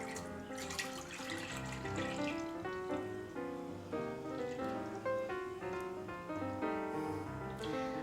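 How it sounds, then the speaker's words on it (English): Half and half pours into a clean, dry Instant Pot inner pot as a continuous, soft liquid stream lasting about eight seconds, heard close with no talking. "Pour the half and half in there."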